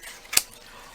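Scissors make a single crisp snip while trimming the edge of a water slide decal, close and clear against a quiet room.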